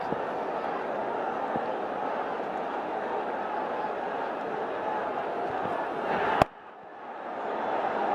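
Cricket crowd in the stadium at Sylhet keeps up a steady, dense roar of cheering, cut by a sharp click and brief dip before the noise swells back.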